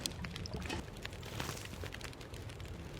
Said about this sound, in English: Is that our water boiling?